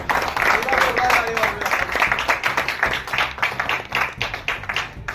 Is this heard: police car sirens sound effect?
no